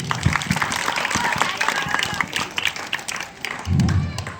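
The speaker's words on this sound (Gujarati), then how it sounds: "તેમને તાળીઓથી વધાવી લઈએ" An audience applauds to honour a trust and committee at an education-sector gathering, a dense patter of many hands clapping throughout, swelling again near the end.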